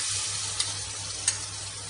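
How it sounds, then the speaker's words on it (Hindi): Soaked masala hitting cooked tomatoes in a pan for dum aloo, giving a steady close broadband sizzle with two brief clicks from a stirring spoon, no voices. "अब इसमें हम डाल देते हैं मसाला।"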